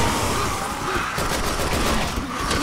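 Gunfire in the video game Resident Evil 6 forms a dense, continuous barrage of rapid shots and bursts, loud and close, filling the whole stretch without a break.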